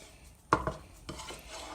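Wooden spoon stirring Bajan seasoning in a cooking pot, a couple of quick knocks and scrapes close up, then a softer stir, quiet and brief.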